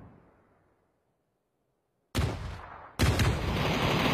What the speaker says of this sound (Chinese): 又一波轰炸，旺仔直接是炸掉了小鬼和醋酒。